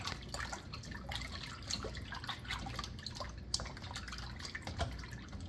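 Walleye fillets are swished around in salted water, giving faint, continuous sloshing and dripping with soft splashes, quiet and close.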